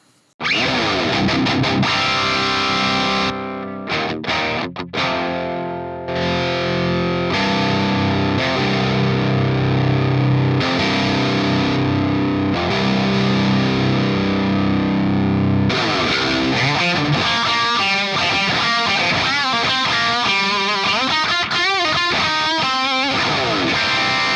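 A metal guitar patch on an Ampero II Stomp with FET boost, delay and reverb, heavy distorted chugging chords and sustained notes, then a fast lead solo with trailing echoes, loud and continuous.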